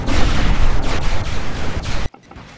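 Dense, continuous gunfire from units battling in Command & Conquer: Kane's Wrath, loud rapid shots layered with booms for about two seconds before cutting off abruptly to near silence.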